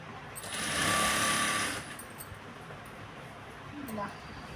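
A sewing machine runs in a short burst while a fall is stitched onto a saree edge, then stops and leaves quieter handling sounds with faint speech.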